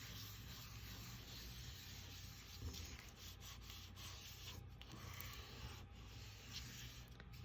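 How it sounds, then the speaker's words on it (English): Folded painted paper rubbed steadily and firmly by hand, a continuous soft scratchy friction that runs alone and evenly throughout, close and moderately quiet. "So we're just gonna keep rubbing for a little while."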